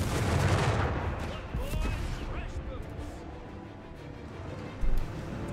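Distant artillery thumps and scattered rifle fire rumble through a Company of Heroes 3 battle between German Afrika Korps and US forces, steady and muffled, with one heavier blast near the end and a commentator's voice faintly present.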